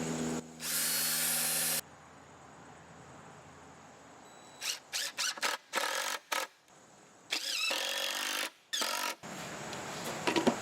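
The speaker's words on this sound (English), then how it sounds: "I'm going to pre-drill these holes." A cordless power drill pre-drilling holes in wood whirs in a long burst, then in a series of short stop-start pulses, close up with quiet pauses between runs.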